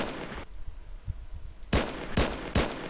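Three punchy pistol shots from the MP Rex in a DICE video game, close and sharp, evenly spaced in the final second and a half after a quieter stretch.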